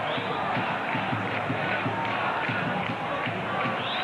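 Stadium crowd at a 1998 Brazilian league football match between Botafogo and Cruzeiro chants in a dense rhythmic roar, steady and continuous throughout.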